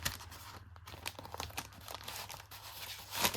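Paper scraps being cut for a 6x6 ornament album craft: a steady run of close, crisp crinkling and snipping sounds, with no talking.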